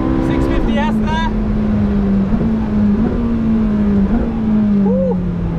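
A Ferrari 458 Speciale engine drones loudly and continuously on the Yas Marina race circuit, its pitch dipping slightly and jumping a few times as it shifts through gears.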